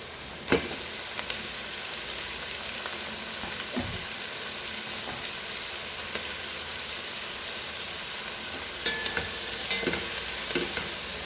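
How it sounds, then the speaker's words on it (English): Tomato frying over a high flame in Goan brinjal masala, with a steady soft sizzle and occasional scrapes and taps of a spoon stirring the pan. "Now we'll add our tomato to this."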